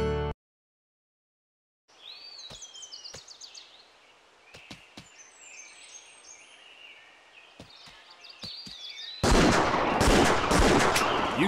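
Gunshots in the Wii hunting game Buck Fever: several sharp, isolated cracks spaced apart amid chirping birdsong, followed by a loud, dense burst of rapid shots at the end.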